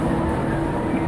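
Steady low rumble of the Bangkok SkyTrain, an elevated train, in motion heard from inside the car, an even droning roar with no voices.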